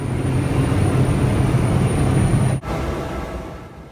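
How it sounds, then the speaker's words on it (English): A research airplane on a measurement flight over Indonesian volcanoes drones with a loud, steady engine roar that fills the cabin and briefly dips before continuing. "The following morning, the first measurement flight over volcanoes begins."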